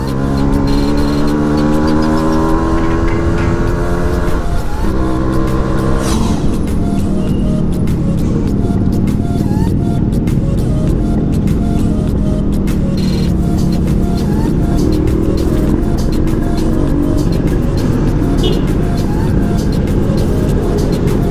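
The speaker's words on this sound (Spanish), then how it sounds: "En este horario esto es un caos total con los peatones y el tráfico" Busy Cuban street traffic at a chaotic hour, with car and motorcycle engines droning and revving close by, a continuous loud wash of vehicles and passing noise, with voices talking over it.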